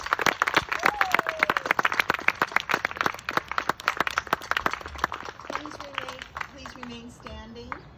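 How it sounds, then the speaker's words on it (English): Applause at a 2020 eighth-grade graduation ceremony at Foothill Oaks Academy in Duarte, California, as the graduates stand: dense, steady clapping from a crowd, with voices and cheers rising above it, thinning out toward the end. "Let's give them a round of applause."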